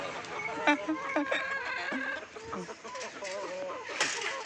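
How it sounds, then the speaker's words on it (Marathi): Several village chickens cluck and squawk close by in a busy, overlapping chorus as they are fed millet, with brief human voices mixed among them. "आला रे कोंबड्या हो"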